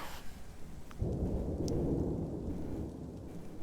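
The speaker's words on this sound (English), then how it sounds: "we're getting rain in the game" Rain and a low rumble of thunder from the video game Dwarf Fortress, a soft hiss that swells into a steady, moderately quiet wash of rainfall, with no talking.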